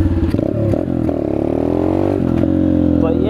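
A Peace Moto Chinese dirt bike engine revs close by, a loud buzzing drone that climbs and wavers in pitch through several throttle blips, with a voice talking over it.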